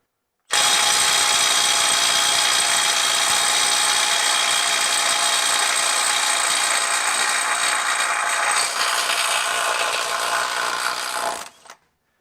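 A Milwaukee M12 FUEL subcompact impact wrench hammers on a bolt at 225 foot-pounds, one steady, loud, continuous rattling burst of about ten seconds that then stops abruptly, with no talking.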